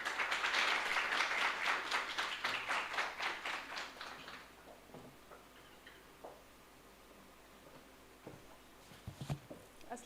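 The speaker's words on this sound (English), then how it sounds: "Let's give her a warm round of applause." An audience applauds to welcome lecturer Dr. Fatima Hussain at an IEEE ComSoc Lahore distinguished lecture on cybersecurity threats, a dense burst of clapping that quickly thins out and fades to a few scattered claps.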